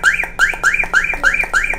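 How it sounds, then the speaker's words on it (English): A Bluetooth car alarm siren sounds loudly and up close, repeating a rising electronic whoop about every quarter second in a steady cycle, with no voices. "Siren will make a long time sound."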